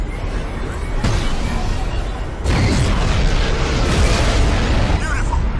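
TAC cannon blast in Crysis: a heavy explosion with a sustained roaring rumble that surges louder partway through, loud and close, with voices talking over it.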